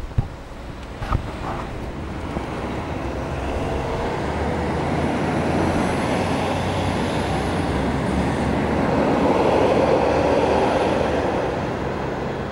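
A tram rolls past nearby, its steady rumble and hiss building and swelling, with a faint high whine from the wheels; no talking.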